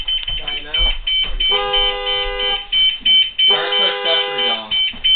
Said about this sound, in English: Oh, this thing has a child check alarm,